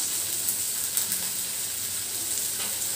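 Onions frying lightly in a little oil for chapati noodles, giving a steady, close sizzle and hiss with faint stirring, no voices.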